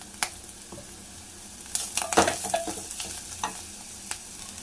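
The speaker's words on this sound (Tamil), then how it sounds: "உங்களுக்கு காரத்துக்கு ஏற்ற மாதிரி காஞ்ச மிளகாய் போட்டுக்கோங்க, காம்பு உடைக்காதீங்க. கொஞ்சமாக பெருங்காய பவுடர் போட்டுக்கலாம்." Dried red chillies and asafoetida powder frying in a pan, a brisk sizzle under repeated scraping stirs of a spoon against the metal, close and clear with no voices.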